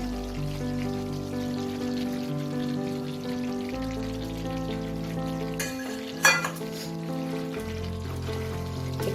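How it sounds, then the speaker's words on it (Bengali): Fried cauliflower pieces drop into a spiced yogurt masala in a pan and sizzle steadily, with a brief clatter partway through and a tonal hum underneath. "এবার আমি এতে ভেজে রাখা ফুলকপিগুলোকে অ্যাড করে দেবো।"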